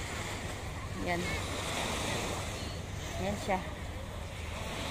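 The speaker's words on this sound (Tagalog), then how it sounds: "ito ang kagandahan ng dagat ng Singapore" Sea waves wash along the shore at East Coast Park in Singapore, a steady broadband surf roar with some wind, while people talk over it throughout.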